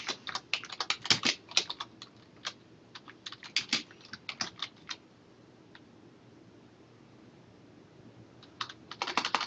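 Typing on a computer keyboard, bursts of close, crisp key clicks in quick irregular runs, a few seconds of near silence, then another short flurry of keystrokes.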